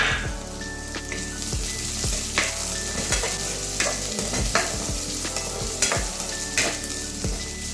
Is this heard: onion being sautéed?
yes